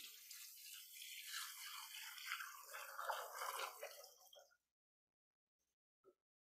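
Water poured into a baptismal font during a church worship service, a steady splashing trickle for about four and a half seconds before stopping, followed by a single faint drip.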